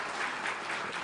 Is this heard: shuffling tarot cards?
no